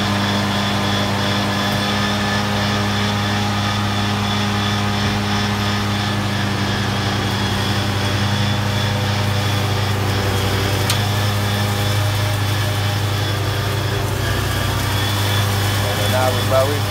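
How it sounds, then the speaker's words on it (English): A lawn mower engine drones steadily and loudly nearby while cutting grass, with a constant low hum and no pauses. A voice talks faintly underneath. "And now we're mowing."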